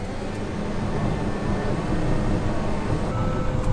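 A brand-new John Deere 850L dozer idling steadily after its park brake is released, a constant broadband diesel rumble and mechanical hum with no breaks, close by.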